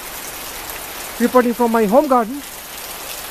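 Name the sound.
heavy rain in a home garden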